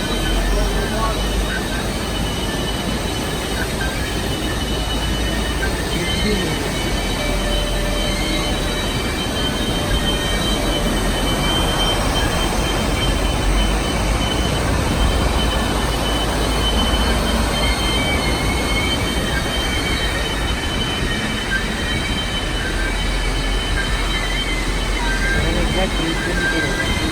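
Royal Gorge tourist train rolling along its rails, a steady loud rumble of wheels and cars with faint high squeals running through, continuous for the whole stretch with no talk.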